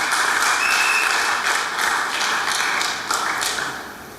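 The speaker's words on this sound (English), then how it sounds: "So a round of applause for you." A small audience at a rally gives a short round of applause, a crisp burst of close claps that thins out over a few seconds.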